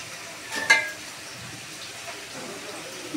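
Fish coated in mustard and green chilli paste cooks in a hot pan, and a brief splash of added water brings a short sizzle before the frying settles back to a low, quiet crackle.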